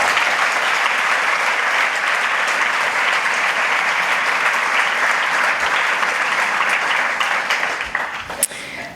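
A large audience applauds warmly at the launch event for a regional professional social network. The dense clapping is loud and sustained for about eight seconds, then begins to thin out at the end.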